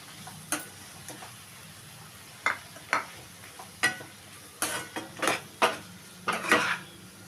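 Prawns go into a pan of fried gongura leaves, followed by a run of close metallic clinks and scrapes of a spoon against the pan over a faint, low sizzle, irregular and quiet between the knocks.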